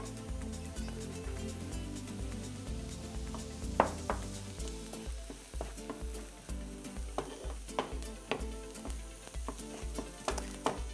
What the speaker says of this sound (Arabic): نزيد الثومه على البصله